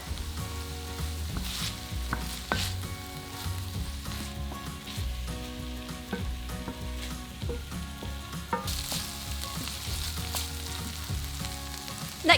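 Sliced chorizo and softened vegetables fry in a pan for a one-pot Spanish chicken and rice dish, giving a steady, close sizzle with occasional stirring clatter throughout, no talking.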